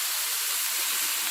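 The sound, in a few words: hot water poured into pot of rabbit, sizzling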